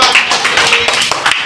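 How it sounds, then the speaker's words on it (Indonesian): Several people clap hands in a primary-school classroom, with a brief, loud, dense round of applause close by. "Tepuk tangan buat."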